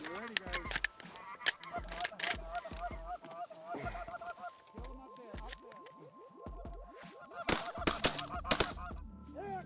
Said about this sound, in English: Snow geese, the Canadas, the ducks.